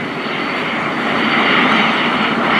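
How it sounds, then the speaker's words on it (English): Jets take off at a naval air station air show, a loud, steady, broadband engine roar that swells slightly as they climb, with no talking. "Our aircraft, if you look off to the right-hand side, are getting airborne right now."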